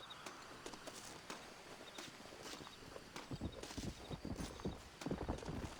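Horse hooves clip-clop steadily in Red Dead Redemption, a rhythmic run of close hoofbeats that grows louder and denser toward the end, with no talk over it.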